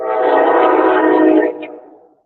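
A train passes close by in an urban setting, a loud sustained rumble with horn-like tones that fades out over the last second.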